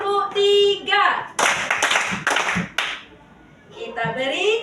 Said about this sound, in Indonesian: Maka kita beri tepuk 3.